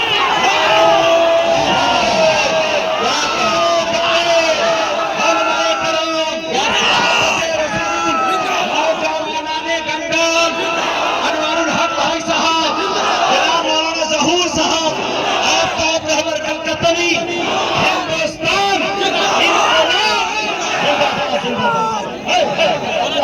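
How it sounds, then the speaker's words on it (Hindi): A crowd at a mushaira poetry gathering cheering and chanting slogans, loud continuous massed voices with whoops and rhythmic shouted calls throughout, dense and close. "नारे तकबीर। पूरा मजमा खड़े होकर इस्तकबाल करे हजरत उमर की शान में।"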